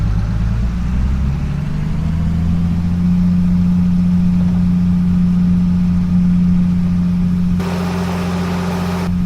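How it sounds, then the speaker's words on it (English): An older tractor engine from Farming Simulator 25 runs with a loud, steady low drone and a throaty hum, close and continuous throughout. "Especially on an older tractor like this."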